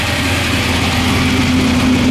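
A 1971 Camaro SS with a 383 stroker engine, aluminum heads and aftermarket exhaust idles steadily and loudly up close, a deep continuous rumble with no talking over it.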